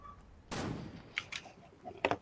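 Gunfire in the video game Fortnite, with a few separate shots or short bursts: a louder one early, then sharper cracks later, all fairly distant in a quiet game scene.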